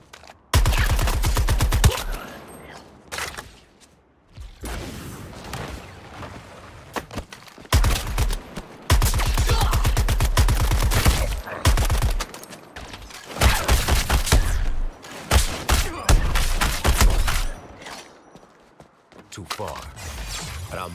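Heavy gunfire in the Suicide Squad Kill the Justice League game: repeated bursts of rapid automatic shots in long runs, loud and near, with short pauses between them.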